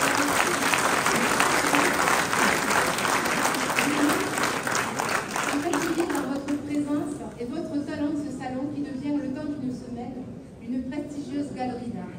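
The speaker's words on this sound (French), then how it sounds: "Je vous demande maintenant de les applaudir" An audience at an art exhibition opening and prize ceremony applauds the exhibiting artists, a full steady wash of clapping that thins out partway through as a voice speaks over it.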